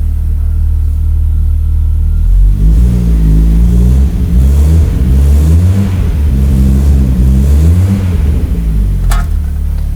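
An Audi S4 idles while warming up from cold, its exhaust giving a loud, deep, bassy rumble up close, with the revs rising and falling in a few gentle swells.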